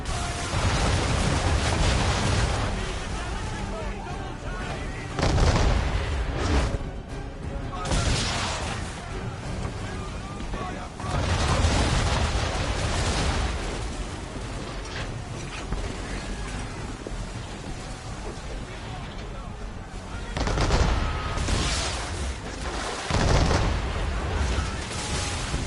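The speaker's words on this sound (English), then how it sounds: "now we're gonna switch to normal cannons" Naval cannon fire in Assassin's Creed 3, loud booming blasts in bursts of volleys with rumbling decay between them, set against a continuous roar of battle and sea noise.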